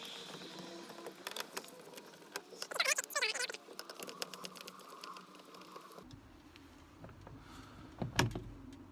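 Torx T20 screws being undone from the window winder mechanism inside a VW T5 door, heard as quiet close clicks, ratcheting and metallic taps with a brief rattling burst and a sharp knock near the end.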